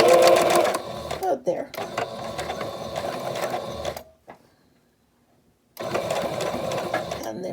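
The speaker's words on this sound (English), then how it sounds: "So we're gonna stitch, just gonna do a little bit of back stitching here" A sewing machine back stitching a fabric face mask, running in loud rapid bursts that stop and restart, with a near-silent pause before the motor picks up again.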